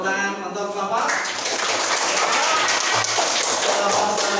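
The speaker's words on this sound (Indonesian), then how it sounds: "tepuk tangan untuk kelompok" Applause for a group in a classroom or hall, a steady dense patter of many hands clapping together, fairly loud and continuous throughout.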